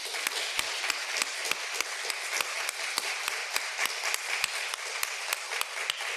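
An audience at a lecture on archaeological excavation in Palestine claps in a steady, even rhythm, a sustained wash of applause with distinct sharp claps standing out at regular intervals, no talk.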